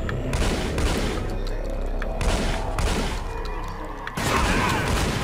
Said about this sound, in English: And we're being shot at again.